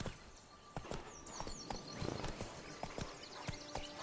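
Horse hooves from The Witcher, Roach galloping, clop in a quick steady rhythm, close and clear over a busy game soundscape with faint birdlike chirps.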